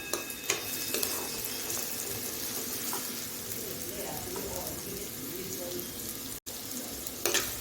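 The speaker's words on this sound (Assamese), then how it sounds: "এইফালে মোৰ পিঁয়াজখিনি প্ৰায় ভাজা হ'বই আৰু কালাৰটো চেঞ্জ হৈছে" Onions fry in a pan with a steady, close, crackling sizzle that continues throughout, with a few sharper pops and scrapes from stirring.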